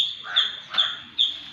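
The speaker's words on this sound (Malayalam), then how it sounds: "ഞങ്ങളുടെ ഗപ്പിറ്റാങ്കിൽ തവളകളാണ് കേട്ടോ നിറയെ തവളകൾ" Three short, raspy frog croaks from a guppy tank at a steady pace, fairly close, each a bright rasping call with quiet gaps between.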